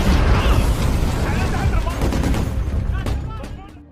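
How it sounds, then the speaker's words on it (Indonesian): Dense gunfire and explosive RPG blasts from a sniper action film battle, a continuous loud barrage of bursts and booms throughout, fading slightly toward the end. "Pasukan musuh langsung menyerang pasukan kedua dengan menghujani peluru dan RPG."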